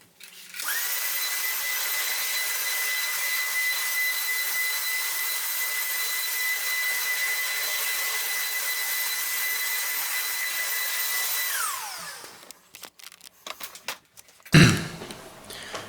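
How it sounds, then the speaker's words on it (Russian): A Xiaomi Deerma DX700 cordless stick vacuum cleaner runs on a long-pile carpet with a steady high-pitched motor whine for about eleven seconds, then spins down, followed by a few handling clicks and a thump. "посмотрим, сколько этот пылесос выберет этой каши из длинного ворса"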